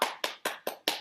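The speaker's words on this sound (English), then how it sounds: "can we give a round of applause to our pianist today?" Applause for a pianist at a piano masterclass, heard as five short, evenly spaced bursts of hand claps, fairly close and moderately loud, with no voices.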